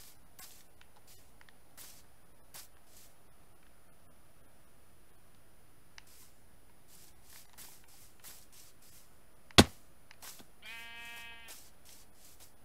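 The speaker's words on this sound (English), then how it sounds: "That's a stupid gray sheep." Sheep in the Minecraft video game, a single short bleat near the end over quiet ambience, preceded by a sharp click and a few scattered soft taps.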